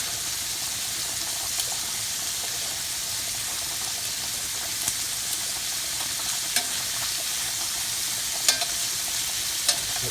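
Shrimp sizzle steadily in a hot pan as they are flipped, with a constant bright hiss of frying and a few sharp clicks and taps from the turning, close up and without talk.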